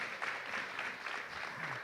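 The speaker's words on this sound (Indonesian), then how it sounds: "Tepuk tangan buat kita semua." Steady applause from a conference crowd, a dense patter of clapping hands sustained for a couple of seconds with a faint voice underneath.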